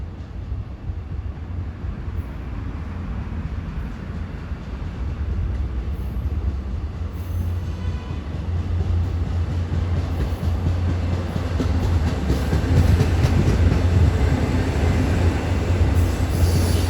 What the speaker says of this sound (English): we got westbound diesel equipment coming on track number 3